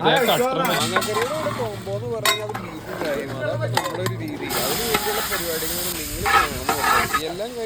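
Beef curry being stirred and mixed with rice in a large cooking vessel at a celebration in Angamaly, with sizzling, scraping and clanking of the pot heard under lively talk and background chatter.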